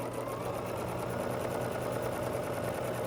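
A sewing machine runs steadily while chain piecing scrappy quilt squares for a sawtooth star block, one fabric pair after another without cutting the thread. The motor hum and rapid needle chatter stay constant and close throughout.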